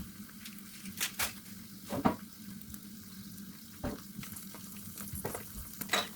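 Tomato paste sizzles and fries in a pan for a chickpea curry, a steady hiss broken by several sharp stirring scrapes and spatters, close and fairly loud with no voices.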